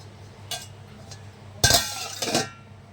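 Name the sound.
pot being covered with a lid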